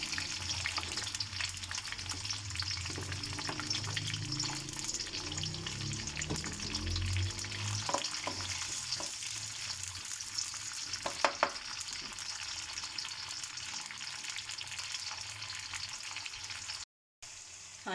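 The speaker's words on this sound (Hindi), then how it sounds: "प्याज को हल्का सा हम गोल्डन ब्राउन कर लेते हैं" Onion sizzling in oil as it fries toward golden brown for a cabbage sabzi, a steady close crackle with intermittent stirring scrapes and a few sharper clinks, and no voices.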